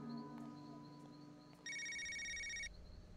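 A telephone rings once in the video game Knee Deep, a bright electronic trill of stacked tones lasting about a second against a low ambient hum, with no talking.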